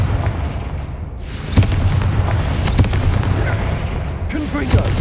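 Confringo fire spell explosions in Hogwarts Legacy, several booming blasts over a constant rumbling roar, each burst loud and close, spaced a second or two apart.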